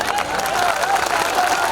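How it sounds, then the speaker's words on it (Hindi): Brief burst of crowd applause and cheering at a political rally in Varanasi, a dense wash of clapping that holds steady for under two seconds. "इतनी कम तालियां।"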